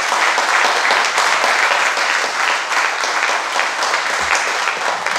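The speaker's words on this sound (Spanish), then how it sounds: "Quiero pedir un aplauso grande por los compañeros de Cuba que hoy nos han dado su reflexión" Sustained, loud applause from an audience at a solidarity event for Cuba and Venezuela, honoring Cuban comrades, dense steady clapping filling the whole stretch without pause.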